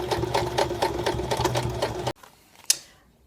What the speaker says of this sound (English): I am just going to sew a straight line, and I'm using the edge of my presser foot as a guide against the edge